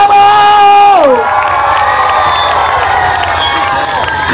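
At a live concert in Kabong, Sarawak, a loud crowd roars with cheering, whoops and clapping right after a sustained sung note breaks off, the noisy cheer carrying on to the end.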